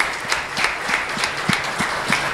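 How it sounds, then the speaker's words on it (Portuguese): A church congregation claps in praise during a service, with steady overlapping hands and sharper accented claps landing at a loose regular beat. "uma salva de palmas a Jesus"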